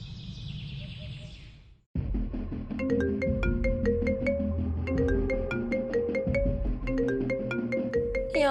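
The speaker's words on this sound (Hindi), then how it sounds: "ये अननोन नंबर से किसका फोन आ रहा है?" A melodic electronic ringtone plays a repeating tune, steady and fairly loud, after a brief bit of background sound cuts off.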